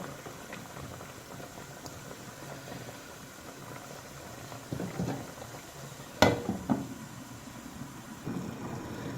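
Sri Lankan chicken curry simmering in a covered pot, giving a quiet, steady bubbling and hiss with one sharp clink partway through and a few soft knocks.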